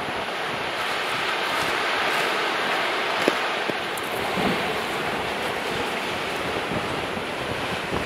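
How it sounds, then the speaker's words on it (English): Two- to three-foot ocean waves break at high tide at the Hopewell Cape rocks, a steady roaring wash under strong wind buffeting the microphone, with no voices. "We got some 2 and 3 foot waves out there. Some of them are breaking over here."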